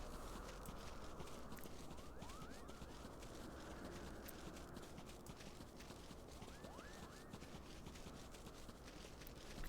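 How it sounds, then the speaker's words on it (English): A horse's hooves clip-clop in Final Fantasy XIV, a steady, quiet stream of hoofbeats running on in place over a constant game backdrop, with no voices. "I'm sure the horse will figure out his way eventually."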